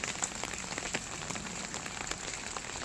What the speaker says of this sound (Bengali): দেখো বৃষ্টি পড়ছে জলের মধ্যে